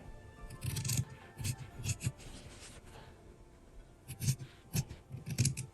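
Scissors snip through fabric being cut out for a sewing project in a quiet room: short crisp cutting bursts in two clusters with a pause between, close and fairly soft.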